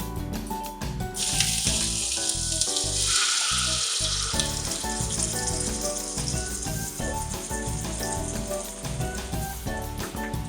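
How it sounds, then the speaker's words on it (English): Sauce poured into hot lard erupts into a loud, steady sizzle and crackle that holds for several seconds, with a background music track playing throughout and no talking. "So what I did is I just put lard, right, with this, and next thing I'm gonna do is put the sauce"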